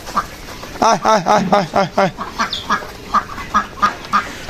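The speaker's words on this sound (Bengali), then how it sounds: "আমরা আপাতত হাঁসকে শুধু ধান দিতেছি আর কিছু দিতেছি না এই দেখ ছোটো বড় সবাই চলে আসছে খাওয়ার জন্য" Ducks quack in a quick burst of rough, nasal calls while being fed rice paddy, several birds close by, followed by sparser quacks trailing off.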